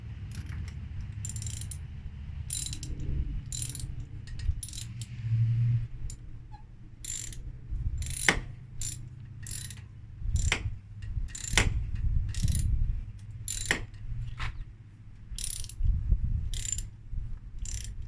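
A ratchet or wrench tightens bolts until snug, producing sharp mechanical clicks and short ratcheting bursts at irregular intervals over a low, steady background hum, with no talking.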